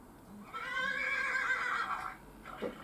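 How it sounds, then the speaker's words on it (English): A horse neigh ringtone plays from a phone, one long whinny with a rising and falling whistle that trails off, followed by a brief soft thump. "that's my phone. Got a bit of a horse thing on my phone"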